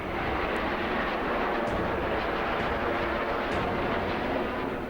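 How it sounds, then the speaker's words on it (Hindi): Hercules C-130J military tactical transport aircraft taking off in Ladakh, a loud, steady broadband engine roar filling the whole stretch without letup. "ये विमान अभी देखिए आपके सामने टेक ऑफ कर रहा है। ये हमारा टैक्टिकल विमान है हरक्यूलिस 130J"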